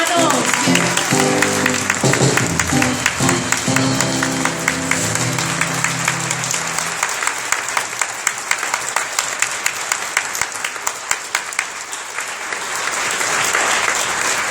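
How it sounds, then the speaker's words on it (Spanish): A church congregation in Toronto gives a long, loud round of applause welcoming Padre Gustavo Jamut, steady crowd clapping that runs throughout with a voice talking over the start. "Ayúdenme a recibirlo con un fuerte aplauso, hermanos."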